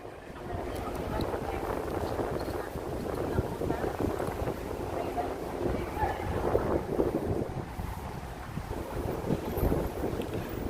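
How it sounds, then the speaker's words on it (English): Strong wind gusts buffet the microphone near a river by Waterline Square in New York City at night, a steady roaring rumble throughout with no clear speech over it. "It's very close to the river, so it's windy,"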